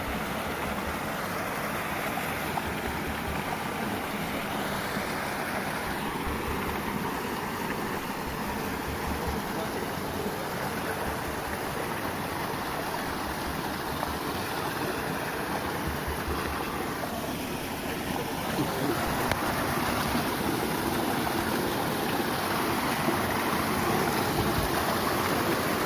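Steady splashing of water pouring from a spout in the Patalan forest near Ngawi, Indonesia, a constant broadband rush close by, continuing without pause throughout.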